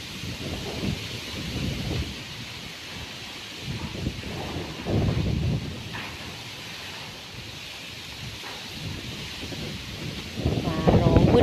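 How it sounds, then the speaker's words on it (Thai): Strong wind gusts steadily during a rainstorm with thunder, roaring and buffeting the microphone with heavy low rumble and rustling, surging louder at moments, while voices speak faintly underneath. "โอ้ลมทำไมแรงจังเลยลมอ่ะ"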